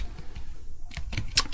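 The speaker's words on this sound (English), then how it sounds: "let's type python" Brief typing on a computer keyboard in a Linux terminal, a few quick close key clicks in a short burst, no talking.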